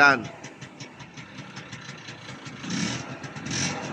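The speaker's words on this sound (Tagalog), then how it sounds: "Ayun yung trike. 3 wheels." A motorized three-wheeled trike engine runs at a rough idle with a pulsing mid-pitched rumble, heard beneath ongoing talk and outdoor background noise.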